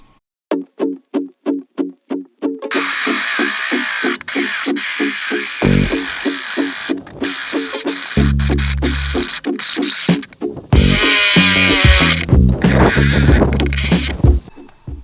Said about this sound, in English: then we could start drilling